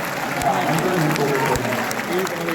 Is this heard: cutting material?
no